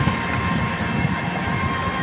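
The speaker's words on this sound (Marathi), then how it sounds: "साईडला ट्रेन चालली आहे." A continuous low rumble of a passing train, steady and fairly loud, heard from a nearby road bridge in Chandrapur without any voices.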